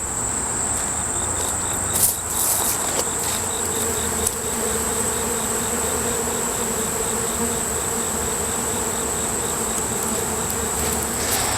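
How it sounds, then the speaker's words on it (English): Angry bees being smoked out of a hive, making a dense, steady swarm buzz with a thin high whine over it, close and constant, with no talking. "These bees are mean. Angry, mean bees."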